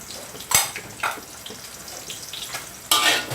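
Chilies and shallots dry-roasting in a pan over a gas stove give a close, light crackle and hiss, with several sharp scraping or stirring bursts breaking through.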